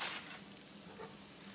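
Spinach sizzling in a hot pan as it cooks down for a tofu scramble, a steady close crackling hiss with no talk.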